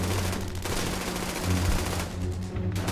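Machine gun fire rattles in rapid, continuous bursts during a wartime battle scene, loud and dense with booming low thuds throughout.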